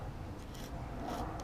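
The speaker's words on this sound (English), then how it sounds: "I'm sanding in this direction and just turning every once in a while" Steady, gritty rasping of sandpaper rubbed back and forth along a broken fishing rod tip, close up and continuous.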